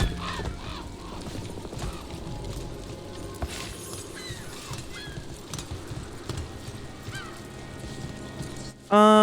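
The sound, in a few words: ducks quacking in video game Dragon Age: The Veilguard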